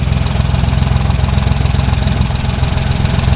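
A Ford 1.0 EcoBoost engine, recently repaired after a wet-belt head gasket failure, runs loud and close with a fast, even chugging pulse that holds steady throughout.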